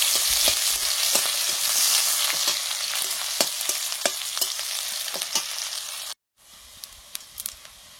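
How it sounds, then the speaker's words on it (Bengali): Chopped onion frying in mustard oil with nigella seeds for a fish curry, a loud steady sizzle with repeated spoon scrapes and pops, dropping after a short break into a quieter crackle. "সর্ষের তেল, কালো জিরে, পেঁয়াজ কুচি"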